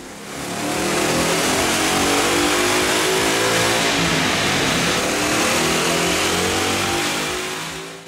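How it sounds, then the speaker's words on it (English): A 2011-14 Mustang GT with a Coyote 5.0 V8 and a cold air intake revs up hard on a dyno, one long loud climb through the rev range that holds high before easing off, with no talking. "Let's put the 1768 cold air induction system to the test on the dyno."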